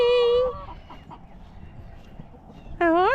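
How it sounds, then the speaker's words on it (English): Backyard chickens clucking at morning chore time, with two loud, drawn-out harmonic calls at the start and end and quieter rustling and low murmur in between. "Let's take care of the chickens first."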